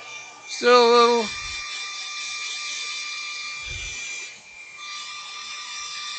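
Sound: Scotch-Brite pad rubbing a painted wooden goblet

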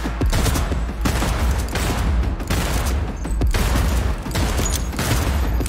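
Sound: gunfire in the video game Cyberpunk 2077

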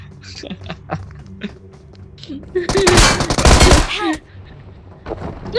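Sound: gunfire in a video game

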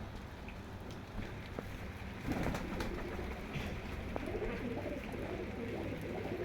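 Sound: Teddy pigeons cooing

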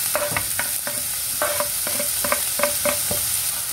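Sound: onion and chili frying in a pan

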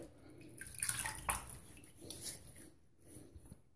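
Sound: rinsing a straight razor under running water

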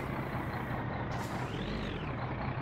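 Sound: truck in video game My Summer Car

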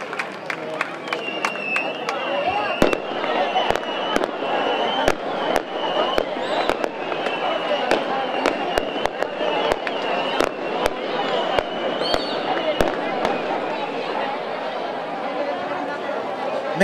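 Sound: fireworks display during a festival

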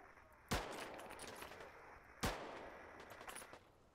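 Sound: gunfire in the video game Deadside

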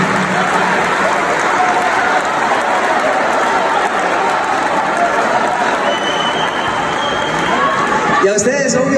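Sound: audience applause for symphony musicians

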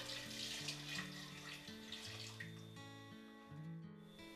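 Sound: water added to pot of pears for poaching in wine

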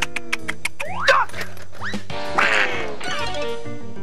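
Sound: duck quacking in a cartoon

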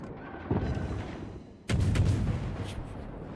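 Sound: gunfire and artillery shooting at a ship in a naval video game

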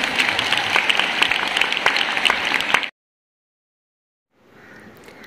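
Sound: audience applause, clapping

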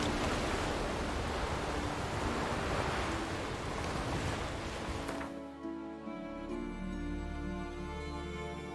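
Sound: ocean waves in the video game Witcher 3

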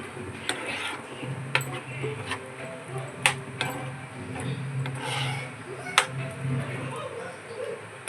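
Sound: stirring carrot halwa with crushed dry fruits in ghee

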